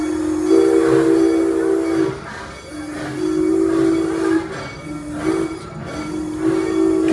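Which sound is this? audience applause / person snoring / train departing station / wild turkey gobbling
train departing station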